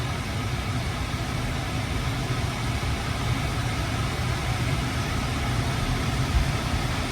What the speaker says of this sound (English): Sorry about the HVAC ripping. It is 90 degrees here, so it's got to cool the car down a little bit.